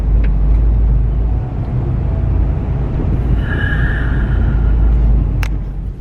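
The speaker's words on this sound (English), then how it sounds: "Man, this traffic so backed up, man." A car sitting in backed-up road traffic gives a loud, steady low engine rumble and road drone throughout, with a faint passing whine midway.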